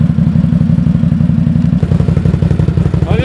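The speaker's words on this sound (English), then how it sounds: "I'm just going to turn the machine off here for a second." A snorkeled Can-Am XMR800 ATV engine idles close and loud with a steady throbbing, lumpy rumble, and its pulsing firing rhythm continues unbroken throughout.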